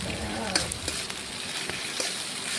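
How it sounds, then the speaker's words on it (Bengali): A paste of ginger, cumin, garlic, onion and green chili fries in oil for a Bengali mixed-vegetable dish, making a steady close sizzle with occasional stirring clicks and scrapes. "এই দেখুন এইভাবে তেলের মধ্যে দিয়ে একটু ভেজে নিচ্ছি।"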